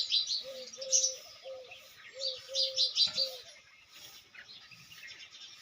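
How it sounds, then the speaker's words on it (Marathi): Sparrows chirp and twitter in quick, bright bursts nearby, mixed with a soft repeated cooing call against a quiet morning background in a village. "सकाळ सकाळ पक्ष्यांचं बघा कसं किलविलाट चालू"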